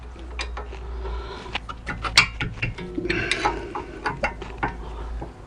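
Ratchet wrench tightening a 14 mm bolt while swapping rear brake discs and pads on a Chevrolet Captiva, a run of quick close metallic clicks and clatters in short bursts, with no one speaking.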